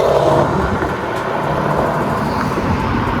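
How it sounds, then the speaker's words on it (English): A Porsche Panamera 4S is driven in sport mode, a loud, steady engine drone with road rumble heard from inside the cabin, with no talking. "Alright, so Porsche Panamera, man. Let's see what this car drives like."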